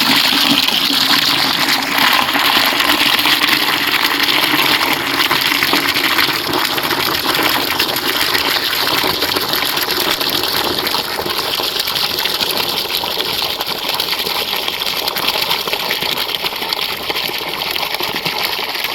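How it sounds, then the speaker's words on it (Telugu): Water gushing from a pump into a bucket, a continuous loud rushing pour with a faint mechanical whine underneath and no speech. "వాటర్ అయితే నింపుకోవాలి."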